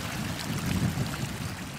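A small mossy creek flows in a steady, soft wash of running water, close and unbroken for a couple of seconds.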